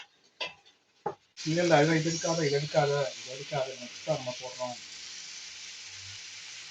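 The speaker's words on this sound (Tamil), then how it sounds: "தக்காளி நல்லா பொரிஞ்சு அதுவும் எண்ணெயை நல்லா யூஸ் அவுட் பண்ணணும்" Tomatoes frying in oil for Ambur mutton biryani give a steady, close sizzling hiss that runs beneath a voice talking through most of the clip.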